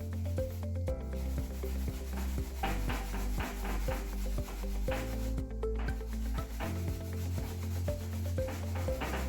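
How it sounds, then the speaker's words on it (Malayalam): Cabbage and carrot are grated by hand, producing repeated rhythmic rasping strokes that sit close and steady over a low background hum. "ഇതിന്റെ കൂടെ തന്നെ നമുക്ക് ക്യാബേജും കൂടെ ഗ്രേറ്റ് ചെയ്ത് എടുക്കേണ്ടതാണ്"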